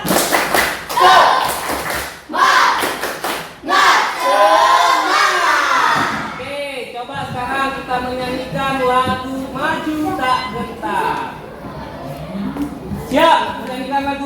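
A class of schoolchildren claps a rhythmic 'tepuk semangat' routine in a short burst of sharp beats, then voices join in singing together in a classroom.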